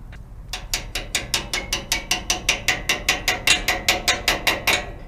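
Steady, loud ratchet clicks close by as brake parts on a 1965 Chevrolet C10 are tightened, about twenty evenly spaced clicks in a fast regular rhythm.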